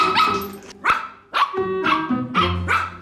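Several puppies bark close by in short, high yipping bursts, five or so yaps in quick, uneven succession, with no talk over them.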